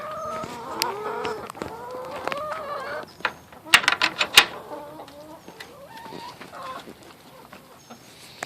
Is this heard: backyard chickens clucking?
yes